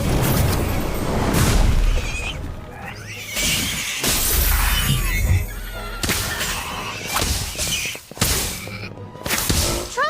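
Incendio fire spell bursts in the video game Harry Potter: Magic Awakened, a series of loud whooshing blasts and shattering impacts in repeated surges, separated by short gaps.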